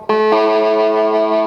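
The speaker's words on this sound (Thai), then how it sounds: "เอฟเฟกเสียงแตก" A sustained, buzzing note on an electric phin played through heavy distortion, thick with harmonics, with a second note struck just after the first and left ringing.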